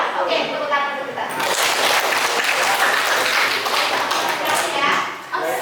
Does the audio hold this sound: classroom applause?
yes